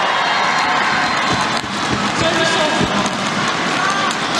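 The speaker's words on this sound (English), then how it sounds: "Getting a bit of a ribbing from the Malaysian crowd." A Malaysian crowd jeers at a badminton match during the Indonesia vs Malaysia men's team final at the 2017 SEA Games in Kuala Lumpur, a steady roar of massed voices and shouts with a few sharper thuds and peaks.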